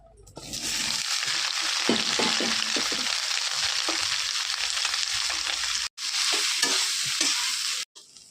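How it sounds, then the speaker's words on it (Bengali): Soy chunks fry in hot oil for a dish of lentil wadi, papaya and potato, giving a loud, steady sizzle broken by scraping stirs, with two short breaks near the end. "এখন আমি সয়াবিনগুলো ভেজে নেবো"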